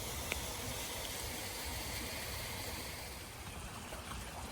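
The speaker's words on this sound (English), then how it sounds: "this water is flowing out of a broken culvert pipe directly from the parking lots and Claremont Road above us." Cloudy, silt-laden stormwater rushes down a creek from a broken culvert pipe, a steady broadband wash that is close and continuous.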